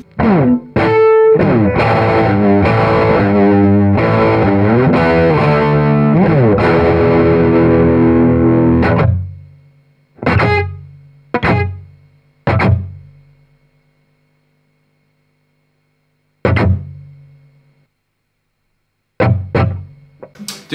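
A distorted electric guitar plays through a Harley Benton Airborne wireless system, loud sustained chords first, then sparse sharp stabs that cut off abruptly into dead silence, as if gated.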